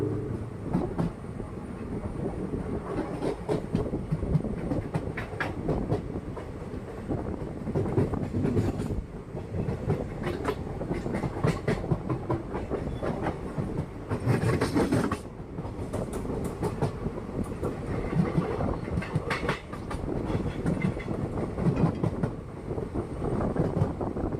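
A train pulls out of platform three at Thiruvalla railway station, its steady rumble and clickety-clack of wagons on rails running continuously throughout, with some wind buffeting the microphone.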